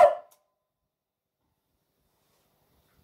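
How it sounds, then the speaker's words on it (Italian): A dog gives a single short bark at the very start, close and fairly loud, then everything falls silent. "Silenzio, non si abbaia."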